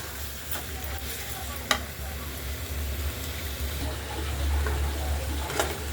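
Quiet sizzling and bubbling of chicken for chicken egg curry simmering on low heat in a pan, releasing its water, with a low hum, interrupted by a few soft scraping stirs and clinks.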